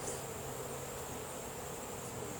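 Honey bees swarming around an open backyard hive during a nucleus-to-full-box expansion, a dense continuous buzzing that stays steady and close with no talking.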